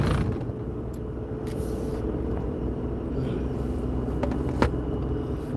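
A truck cruises along a non-freeway road, heard from inside the cab as a steady, loud low engine and road rumble with a few faint clicks and rattles.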